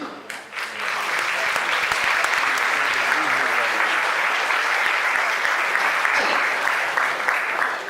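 An audience at a watch awards ceremony in Mondorf, Luxembourg applauds the jury, sustained and even clapping from a sizable crowd, steady and full for several seconds before easing slightly.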